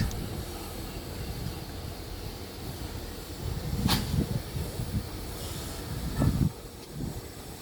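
Steam locomotive 4277 on the Dartmouth Steam Railway trundles onto a station platform, giving a low rumbling chuff with bursts of steam hiss and clanks, moderately distant and steady.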